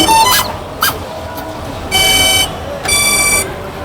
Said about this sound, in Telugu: ఇప్పుడు నేను డ్రోన్ స్టార్ట్ చేస్తాను. చూడండి ఒక బీప్ సౌండ్ అనేది వస్తుంది అన్నమాట.